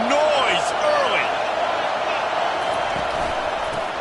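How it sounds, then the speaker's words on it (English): Stadium crowd noise in an NCAA/Madden college football video game swells as a broad, steady roar with scattered cheers and whoops, loud and continuous throughout. "This crowd bringing the energy and noise early."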